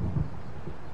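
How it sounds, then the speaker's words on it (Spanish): Low rumbling thunder from the video game Alan Wake, a short muffled roll that swells briefly at the start and then settles into a steady dull rumble, with no voices. "Parece que va a haber tormenta."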